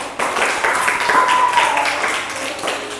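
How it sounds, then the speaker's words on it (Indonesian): An audience in a classroom applauds two students, a short, steady burst of close hand-clapping that lasts a few seconds. "Tepuk tangan kepada mereka berdua"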